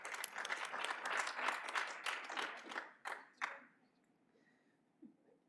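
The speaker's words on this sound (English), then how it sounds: "And give a big round of applause for that." An audience claps at the close of a coaching education session, a lively round of applause that thins into a few final claps and fades to near silence, with a soft tap afterward.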